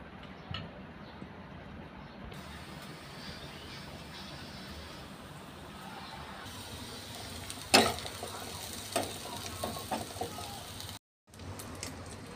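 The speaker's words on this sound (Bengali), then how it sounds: "পেঁয়াজ দিয়ে ডিম গুলিয়ে ভেজে নিচ্ছি।" Beaten eggs with onion fry in a pan with a steady, close sizzle and occasional ticking pops and stirring scrapes. A short louder clatter comes partway through, and the sound briefly drops out near the end.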